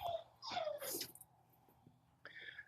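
A puppy just under four months old, wearing a long training line, gives a few high thin whimpers and yips in quick succession, then a short pause before another brief whine, fairly close and with no talking.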